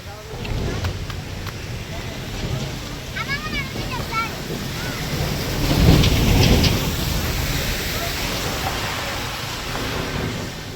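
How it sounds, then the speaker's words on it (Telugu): Heavy rain pours down in a continuous loud wash that swells for a moment midway, with a low rumble underneath and people talking over it. "వర్షం పడుతుంది, బాగా పడుతుంది వర్షం."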